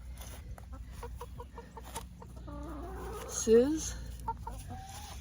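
Backyard chickens cluck near a nesting box, soft intermittent clucks with a louder rising squawk midway, close by under a faint background hum.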